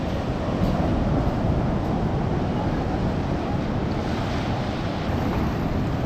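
Waves wash steadily onto white-sand Patar Beach in Bolinao, Pangasinan, at low tide, a continuous loud surf roar mixed with heavy wind buffeting the microphone.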